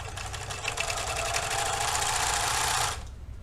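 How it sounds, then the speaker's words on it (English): A serger overlocks the side seam allowance on a bodice facing, whirring loud and continuous for about three seconds before cutting off abruptly. "I'm gonna go in and serge my side seam allowance on my facing"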